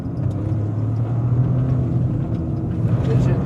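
A 2026 Toyota GR Corolla with all-wheel drive accelerating on a loose surface, its engine a steady, close, dense rumble throughout, with no pauses or breaks.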